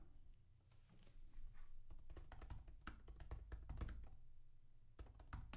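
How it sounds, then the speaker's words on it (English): Rapid bursts of typing on a computer keyboard, irregular clusters of crisp key taps that pause briefly and then resume, close and fairly quiet, with no talk. "I'm just typing, Matt."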